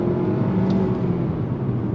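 A 2023 Nissan Altima engine held at elevated revs in S mode while driving, a steady mid-pitched drone with road and cabin noise, constant in level throughout.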